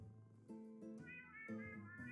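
A cat meows in the video game Dialtown, a series of drawn-out, whiny mews in quick succession, close and fairly clear, with no talk over them.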